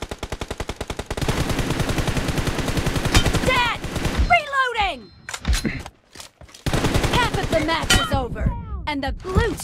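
Rapid automatic gunfire in the video game PUBG (BGMI) rattles in fast sustained bursts, with chirpy voice-like sweeps and short pauses between volleys; loud and close.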